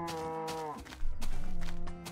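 Cows mooing in the video game Minecraft, with a few low, drawn-out moos in close succession, loud and near, with no talk.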